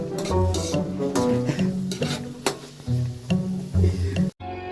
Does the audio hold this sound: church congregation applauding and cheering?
no